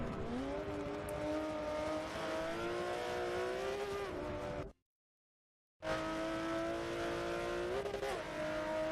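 A race car engine in Forza Motorsport 7 at Mugello hums steadily at high revs with slight pitch shifts, cutting out briefly to silence midway before resuming.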